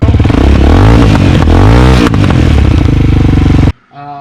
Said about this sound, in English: It's a nice tuned exhaust. It's very nice. It's very loud